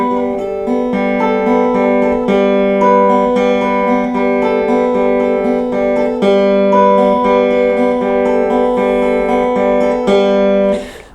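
Opening two measures of a song played as a looping clean arpeggiated guitar pattern, with steady sustained notes repeating throughout and no talking.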